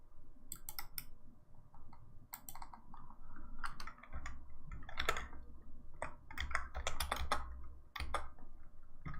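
Irregular runs of crisp clicks from a computer keyboard as a program is typed, close and moderately loud, with bursts of keystrokes separated by short gaps over a faint low hum.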